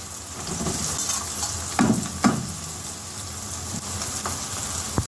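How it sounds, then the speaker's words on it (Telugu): Onion pieces sizzle in two spoons of hot oil in a pan. A continuous close frying hiss is broken by a few sharper scrapes and taps of stirring, with no voices. "రెండు స్పూన్ ఆయిల్ వేడెక్కిపోయింది కదా ఇప్పుడు పోసి పెట్టుకుని ఉల్లిపాయ ముక్కలు వేస్తున్నాం"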